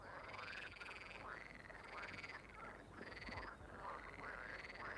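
Frogs croak in a rhythmic, repeating chorus by the water in the Bibi Blocksberg game, each call a rasping pulse in steady succession, fairly soft and with no talking.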